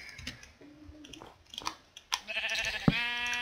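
A sheep in the video game Minecraft bleats near the end, a short wavering cry that comes after soft clicking and scattered game sounds at low level.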